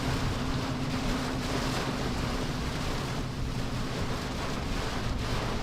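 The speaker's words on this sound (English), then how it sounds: "There are some gusty winds." Gusty wind roars in a steady, dense rush during a severe storm in western Michigan, with constant buffeting noise and no clear speech.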